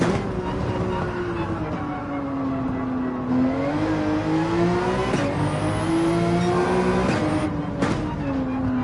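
A race car in Gran Turismo 7 holds a steady, loud engine drone throughout, its pitch climbing and dipping as the throttle is eased on through gear changes, with brief tire and wind noises layered in.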